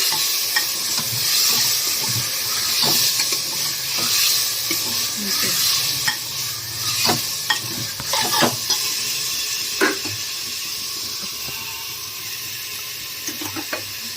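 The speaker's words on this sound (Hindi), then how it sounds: "अब अदरक लहसुन का पेस्ट डाल दिया इसमें, अब ये भूनेगी।" Ginger garlic paste frying in a pan, a steady close sizzle with intermittent scraping and stirring clicks, no speech over it.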